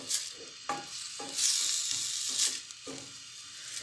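Chopped onions and garlic sauté in a pan for tarhana-style soup, a close, steady sizzle punctuated by several clattering stirs of a spoon against the pan, with no voices.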